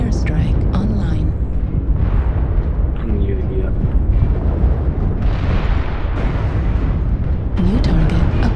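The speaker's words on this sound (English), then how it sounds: "Warning, incoming missile. Airstrike online." Heavy airstrike explosions in MechWarrior Online, a continuous rumbling roar of booms and bursts, loud and sustained throughout, with a synthetic announcer voice speaking over the barrage.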